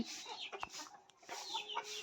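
A black Kaki Nemali native country rooster of about two and a half kilograms gives a few short, close clucks in quick succession, with a brief pause in the middle.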